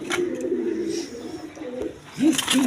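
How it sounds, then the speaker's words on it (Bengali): Pigeons of a fancy breed, including a hen, coo at close range in a low, rolling murmur, with a clearer burst of cooing near the end amid faint background noise. "একদম ফেরেস কবুতর"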